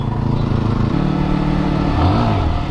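A 2014 Yamaha R15 motorcycle engine on a test ride hums steadily and loudly up close, then its pitch shifts and rises in a brief rev near the end.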